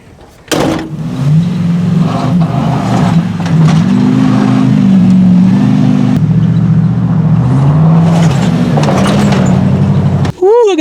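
A Ford XLT prerunner truck engine revs through its exhaust close by, rising and falling in throaty pulls over several seconds before cutting off, with someone talking over parts of it.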